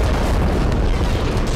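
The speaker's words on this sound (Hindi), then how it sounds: "अल शिफा हॉस्पिटल की इमारत को विस्फोटकों से जमींदोज किया गया" Explosives bring down the Al Shifa hospital building in Gaza with a continuous, loud, deep rumbling roar that fills the whole moment.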